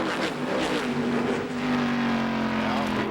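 USAC sprint race car engines at Indianapolis Raceway Park in 2002, a loud, sustained high-revving roar on track with a pitch that shifts slightly, under continuous commentary.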